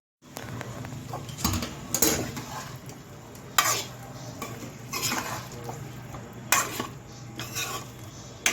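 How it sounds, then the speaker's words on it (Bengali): Partly boiled potatoes stir-fried with spices over medium heat for aloo dum: a spoon scrapes and clinks against the pan in irregular bursts over a low background sizzle, with no voices. "এইবারে মিডিয়াম হিটে রেখে আলুটা দিয়ে আমি পাঁচ থেকে সাত মিনিট আরও একটু কষিয়ে নেব"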